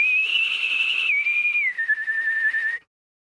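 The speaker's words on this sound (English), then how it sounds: "alien noise sometimes as well" In the video game AWLIAS, an alien noise plays as a high, thin whistling tone that wavers and slides slightly downward for about three seconds, alone and fairly loud before cutting off.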